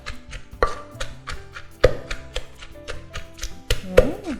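Straw mushrooms pounded with chili, shallot and garlic in a mortar, a few heavy thuds spaced about a second apart amid lighter tapping and scraping, close up with no talk.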